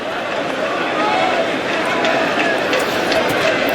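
Boisterous cricket crowd at an England v India Test match, a steady broad wash of distant chanting and chatter from the stands, continuous and moderately loud throughout with no single voice standing out.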